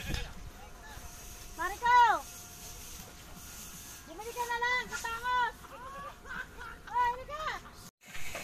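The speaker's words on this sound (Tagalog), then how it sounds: "kinakain po ng kambing yung hinog ng mangga" A goat bleats a few times, wavering and nasal, while eating ripe mango outdoors in the Philippines. The calls come as short separate bursts over steady background noise.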